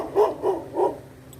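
A dog barks three times in quick succession at close range, each bark short and mid-pitched, with quiet outdoor background between them.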